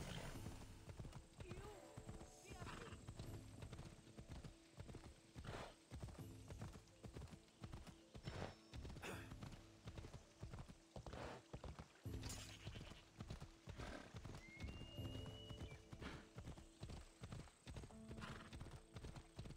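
Horse hooves pound in a steady galloping rhythm in the video game Assassin's Creed Odyssey, loud and continuous under layered game music and effects, with a voice talking over it.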